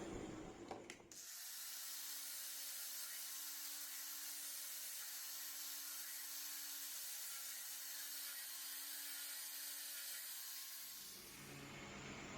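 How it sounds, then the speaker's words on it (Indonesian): Wooden and bamboo trophy parts being sanded, a steady, even abrasive rasp that runs unbroken for about ten seconds at a constant level before stopping abruptly. "Ini kita amplas."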